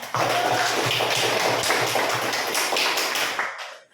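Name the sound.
class applauding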